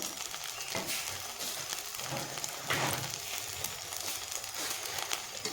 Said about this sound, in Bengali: তো ডিমগুলো আমি এখন ভেজে নেব